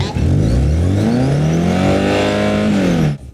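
A Lamborghini stuck in a video game revs hard during a burnout, a loud sustained engine whine that climbs and holds pitch before dropping off suddenly at the end, with tire squeal mixed in.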